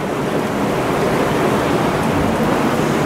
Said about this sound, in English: I guess you can tell that it's, like, pouring